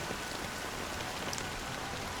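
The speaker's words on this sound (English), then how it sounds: "it's still raining." Rain pours in the video game Honkai Star Rail, a steady dense patter of drops on surfaces that fills the scene evenly, moderately loud, with no speech.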